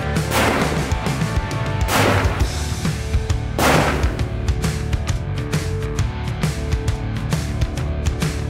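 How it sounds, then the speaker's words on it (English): Three sharp rifle shots crack at an outdoor shooting range, evenly spaced about two seconds apart and loud against a steady background hiss, fired from a rifle fitted with an AllTerra S2-1000 long-range ballistics package. "we've put 3 shots on target down here"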